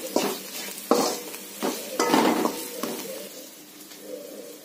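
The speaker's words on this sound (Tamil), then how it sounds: "வெங்காயமும் நல்லா வணங்கிடுச்சுங்க" Onions sautéing in a pan for an evening chickpea sundal snack, with a spoon stirring and scraping in repeated strokes over a soft sizzle, close and moderately loud with no talking.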